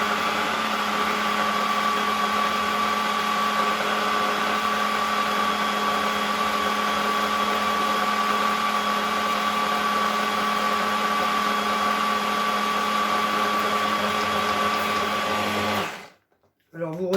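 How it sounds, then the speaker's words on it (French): A blender whirs steadily at constant speed, mixing a chocolate and red bean batter for a fondant, a loud close motor hum that runs unbroken before cutting off abruptly near the end. "vous moulinez à la vitesse que vous voulez"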